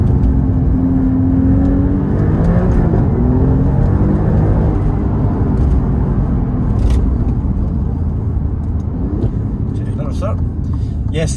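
A 503-horsepower rear-wheel-drive Alfa Romeo Giulia Quadrifoglio accelerates hard, its engine note a loud, steady roar with rising and shifting tones throughout, close to the microphone with a voice talking over part of it.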